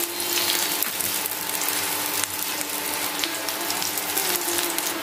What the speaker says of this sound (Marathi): आता एकीकडे आपण आपले बटाटे फ्राय करत ठेवले